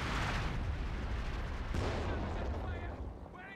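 Bren gun fire amid a Company of Heroes 2 battle, a faint, distant crackle of rapid gunfire blended with booming explosions and rumble, fading toward the end.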